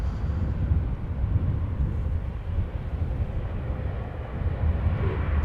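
Jet airliner passing at Amsterdam Schiphol Airport, a loud continuous low engine roar that holds steady throughout with no talking.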